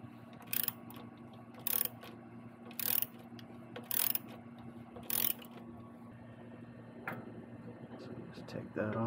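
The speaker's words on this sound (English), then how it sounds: "you need a half inch wrench, open-ended wrench, to get on this nut that's behind this Torx head bolt." A wrench works a nut behind a Torx bolt on the forward-control brake pedal of a Harley-Davidson Street Bob Softail. Five short, even ratcheting bursts about a second apart sound close up over a steady low hum.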